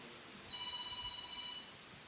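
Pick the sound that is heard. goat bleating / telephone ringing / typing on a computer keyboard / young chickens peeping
telephone ringing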